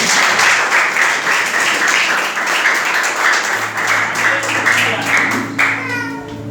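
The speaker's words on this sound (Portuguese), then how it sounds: "aplauda Jesus bem forte" A church congregation applauds loudly, a dense, sustained wash of clapping from many hands that fades slightly near the end as a few voices emerge.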